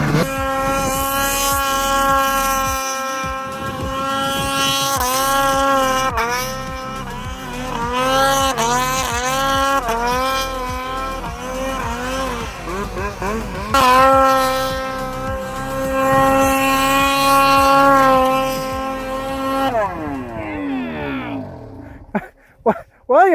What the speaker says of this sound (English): The guy's got a trail over to your snow machine.